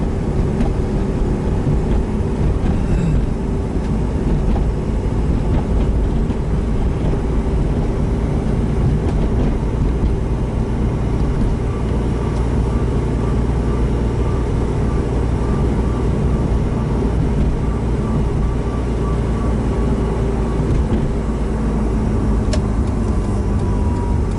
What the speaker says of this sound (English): There is the Silver Fox EG33 Impreza in its current form.